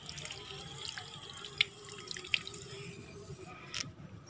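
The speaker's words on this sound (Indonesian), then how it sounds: "cara siramnya nggak bisa pakai tangan dua kita siram merata tipis-tipis" Vinca seedlings being watered by hand, a thin, even sprinkle of water pattering steadily onto seed trays, with a couple of brief bright drips standing out near the start.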